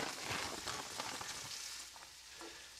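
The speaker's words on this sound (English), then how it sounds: "So we're cooking the green beans and the onions inside the bacon grease." Fresh green beans and onions frying in bacon grease give a steady, fairly faint sizzle with light stirring noises, and no one talks.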